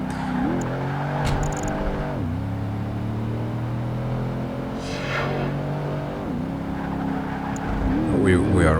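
Racing car engine in Project Gotham Racing 2, an SUV series race through twisty Edinburgh streets, droning steadily with pitch dips and climbs through corners, loud and continuous under background music.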